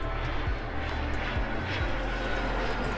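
Airplane engine roar from the air-traffic-control video game Mini Airways, a steady, fairly loud drone of a plane taking off with no voices over it.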